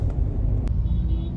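Cars in road traffic rumble nearby, a steady low engine drone with brief sharper sounds on top, heard under a person speaking.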